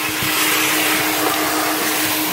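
A coin-operated car wash vacuum runs loud and steady, its broadband suction roar holding constant with a faint fixed whine, close to the hose.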